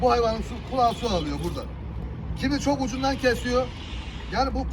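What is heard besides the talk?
No distinct noise like a dog, phone or traffic.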